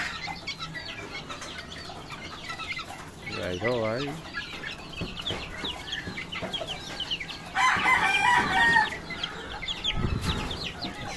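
Chickens and a rooster with young chicks: repeated clucking and cheeping near the microphone, a crowing call partway through and a louder burst of clucking near the end, with a brief spoken remark.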